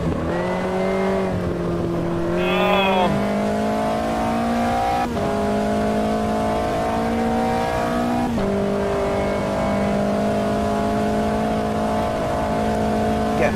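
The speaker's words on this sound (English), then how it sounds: "Car waiting to go on track there, smoking the tyres as he comes onto the track." Race car engine in the Automobilista racing game, revving steadily with rising and falling pitch as a car smokes its tyres coming onto the track, loud and continuous with a brief tyre squeal.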